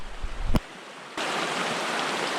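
Trout creek water running steadily, a broad even rush of flow that swells in after a short quieter stretch and a brief knock, close and continuous with no voices.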